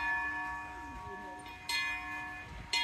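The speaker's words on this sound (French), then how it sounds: "vous l'entendez surtout, vous pouvez sonner les cloches de la cathédrale" Bells rung on a miniature model of Amiens cathedral at an outdoor miniature park, heard as faint sustained tones over ambient crowd noise, with brief brighter strikes near the end.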